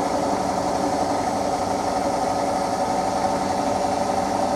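A Hotpoint washing machine runs its spin cycle with a loud, steady whirring drone and constant vibration, unbroken and close throughout.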